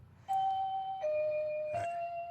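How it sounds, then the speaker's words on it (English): A two-tone electronic doorbell chimes loudly three times in close succession, each a clear sustained ding with a gentle pitch drop, alone over a low background hum. "Anyway, that's my doorbell beam."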